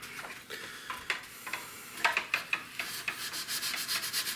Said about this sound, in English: Here's your sandpaper.